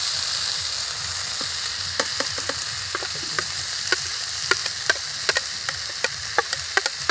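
Red lentils (masoor dal) fry in oil in a pan with a steady, close hiss. Scattered clicks and scrapes from stirring are heard, without speech.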